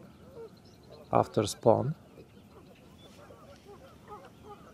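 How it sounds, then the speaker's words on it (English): Geese near a lake give three loud honks in quick succession, close by, while someone speaks briefly and quietly amid soft outdoor background noise. "Man, I hate these geese."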